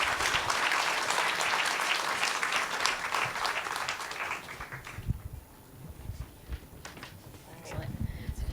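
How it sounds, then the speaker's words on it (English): Audience applause for a panel at the WIA World Summit afternoon session, dense and sustained for several seconds, then thinning into scattered claps and murmuring voices. "Please give our folks a round."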